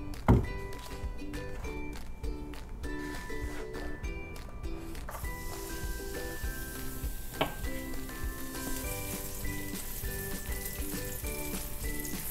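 Garlic fries in oil in a pan for tomato basil pasta. A steady close sizzle runs throughout, with scattered clinks and stirring scrapes over it.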